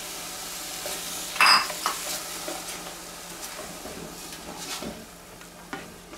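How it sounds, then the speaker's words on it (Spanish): Blended tomato poured into a hot pan for cabbage soup, a sharp metallic clink and burst of sizzling, then a softer steady frying hiss with light utensil scrapes, close, no talking. "ahora vamos a agregarle el tomate que tenemos licuado."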